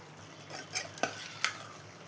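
Soft-cooked dal stirred into cucumber curry, a few quiet scrapes and taps of a spoon in the pot over a faint low hum, close and brief.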